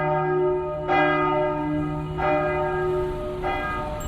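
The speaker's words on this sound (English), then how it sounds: "A church bell can be a sound mark." A church bell strikes three times at a steady pace, each toll ringing out with a rich, lingering hum over a quiet background.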